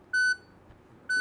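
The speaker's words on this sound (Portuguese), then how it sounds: "E ela vai apitando." A LoRa tracker device gives two short, clear electronic beeps, evenly pitched and about a second apart, in an otherwise quiet room.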